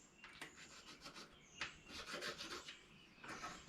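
Marking out a square on 1-inch-thick material for a DIY three-point attachment produces faint, scratchy rubbing strokes in short bursts, with no talking.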